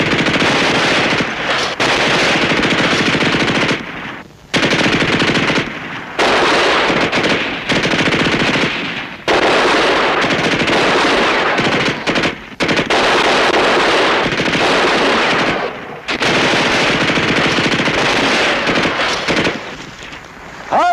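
Sustained automatic gunfire from a 1960s World War II television battle scene, loud and dense bursts of machine-gun and rifle fire with brief gaps, no talk over it.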